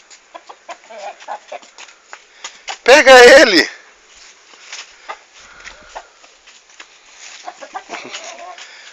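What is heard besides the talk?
rooster clucking on a farm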